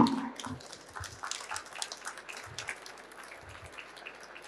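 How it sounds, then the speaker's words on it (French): Audience applause after a tech presentation at a cybersecurity conference, a moderate patter of clapping that fades over a few seconds, heard from mid-distance in a hall. "On peut vous applaudir bien fort déjà."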